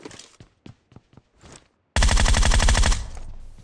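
Rapid automatic gunfire from the battle-royale game PUBG erupts loud and close in a sustained burst of about a second, after a few faint scattered taps and footsteps, then trails off into a quieter tail.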